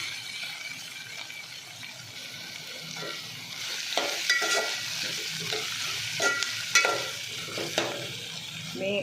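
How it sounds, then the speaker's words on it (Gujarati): Onions and masala frying in a pan over medium heat for a masala sandwich filling, a steady close sizzle with repeated stirring scrapes and clinks that grow busier midway, no talk. "હવે આ બધો મસાલો ડુંગળી એકદમ સરસ ગળી જાય ત્યાં સુધી એમને પકાવવાની છે"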